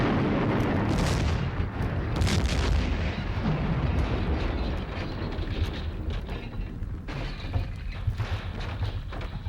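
A movie explosion scene from Treasures of the Amazon: deep booming blasts and crackling bursts roll out over a dense, rumbling wash of noise, with sharp cracks punctuating the din.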